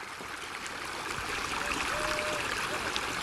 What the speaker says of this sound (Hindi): जब नदी आगे बढ़ती हैं तो आप देख सकते हो ये बस भर गया और ये पानी बस आगे बढ़ गया है